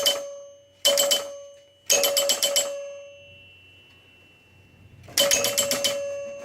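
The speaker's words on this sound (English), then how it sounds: "So you can hear the clicks." A Capt Fantastic pinball machine clicks and rings in four quick bursts of rapid, bright, bell-like strikes separated by short pauses, fairly loud and close.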